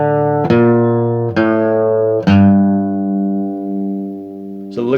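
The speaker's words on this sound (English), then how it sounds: "we could add the half step bluegrass lick in there, which sounds like this." Acoustic guitar playing a bluegrass half-step lick from Blackberry Blossom: three strongly plucked, ringing notes in quick succession, then a sustained ring and a final pluck, close and clear with no talking.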